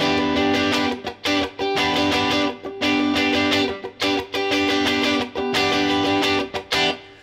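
Rhythmic chord strumming on a guitar using a tightly squeezed pick, bright and near, with bursts of strummed chords broken by brief pauses and no voices.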